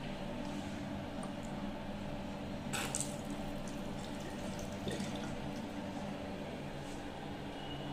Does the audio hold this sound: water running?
yes